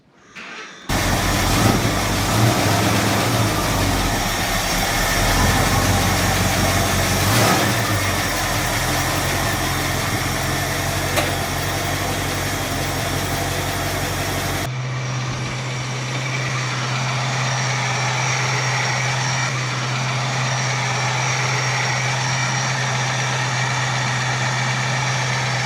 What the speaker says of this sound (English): I'm going to warm the engine up.